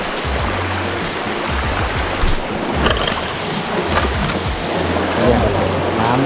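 Strong stream current pours down from above at Krok I Dok waterfall in Khao Yai National Park, a loud, close, unbroken rush with low rumbling, while someone talks intermittently over the water.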